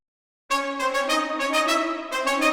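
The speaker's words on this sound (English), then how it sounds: "having the horns in tight, close harmony as well, but an octave down, sounds really good as well." Three orchestral horns sound in tight close harmony, voiced an octave lower, entering after a short silence as a sustained, steady chord with gentle swells that re-articulates near the end, with no voices.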